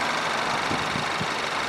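A Hyundai Tucson's 2.0-liter inline-four engine idles steadily, a close, even hum with a few soft low thumps and no talk.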